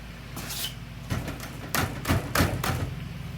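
Loose lower ball joint on a jacked-up Chevrolet Cobalt's suspension bangs in several irregular, hollow clunks close by, the knocks growing stronger toward the end.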